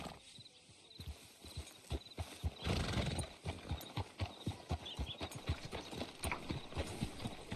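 Steady clip-clop of horse hooves at a walking pace in the video game Red Dead Redemption 2, fairly close, with a brief rustling burst and a horse whinnying partway through.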